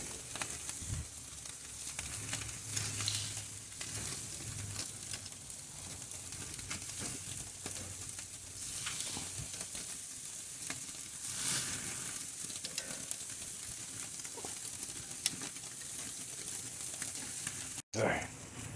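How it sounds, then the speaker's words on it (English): A dry-aged ribeye roast searing in a pan over a very hot fire gives a steady, soft sizzle and crackle that runs throughout, with occasional light clinks and handling noises and a brief sharp bump near the end. "We're gonna give it a good sear."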